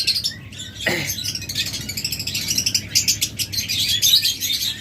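Busy, continuous chirping and tweeting of small pet birds such as lovebirds and budgerigars, several calling at once close by, with a steady low hum underneath.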